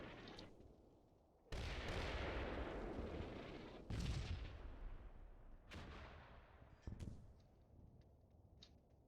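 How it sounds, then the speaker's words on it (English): Mortars firing in the World War II strategy game Combat Mission, a few deep booming blasts spaced several seconds apart, each with a long rumbling decay, moderately distant and fairly quiet. "Oh yeah, so these mortars are firing."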